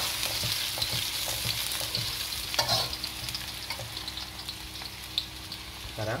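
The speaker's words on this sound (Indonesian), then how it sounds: "Bawang bombay ini kita tumis sampai layu." Onions sauté in a hot pan with a steady, loud sizzle and frying crackle, broken by scraping and clinks as they are stirred.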